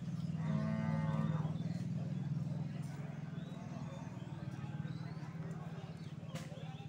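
A large jumbo cow at a cattle sale in Banjarnegara gives one long, low, close moo early on, followed by a steady background murmur.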